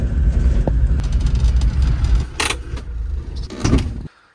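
A rough old Land Rover towing a trailer drives along, its engine rumbling loud and close under a constant rattling body, with a few brief clanks and knocks near the end before the sound drops away.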